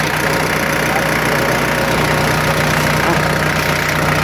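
A used tractor engine idles steadily and loudly at close range, a constant rumbling drone with no change in pace from start to end.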